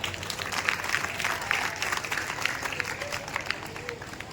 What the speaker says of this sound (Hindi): इसलिए आप सब अपने लिए ताली बजा दें।